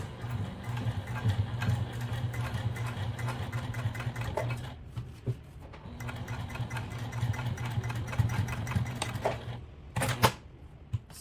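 A sewing machine runs in steady mechanical bursts, stitching and back-stitching thick material for a phone case, with a brief pause midway and a few sharp clacks near the end.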